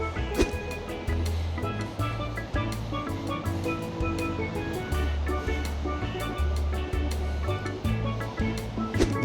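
Sea waves wash onto a quiet winter beach at Şile near Istanbul, a continuous rolling surf with repeated low surges and steady wind-blown noise.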